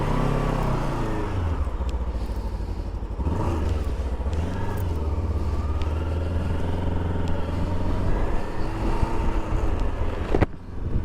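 A Rieju Aventura 500 motorcycle is ridden with a steady engine drone that rises and falls as the rider shifts and accelerates, heard close and continuous over wind noise.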